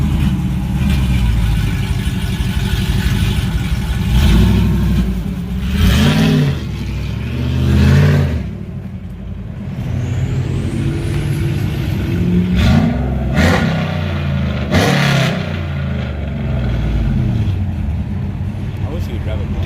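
Cammed Ram pickup with an electric exhaust cutout, engine idling with a lumpy lope and revving in several loud bursts, close by, while people talk around it.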